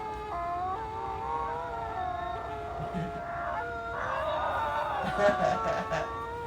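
A group of huskies keeps up long, warbling howls that swell and dip, close and loud, with a few yelping cries near the end.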